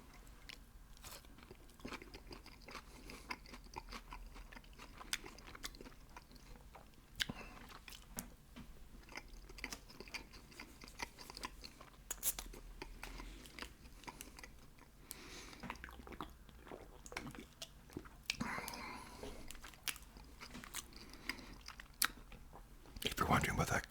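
Close, quiet chewing and crunching of a Subway chef salad topped with crushed Doritos, with irregular crisp bites and soft mouth sounds throughout.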